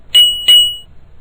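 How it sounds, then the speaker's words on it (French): Two crisp, bright dings from a small bell used as a cue in a classroom word game, struck in quick succession and ringing briefly in otherwise quiet surroundings. "au son de la cloche, tu arrêteras sur l'image pour trouver le mot"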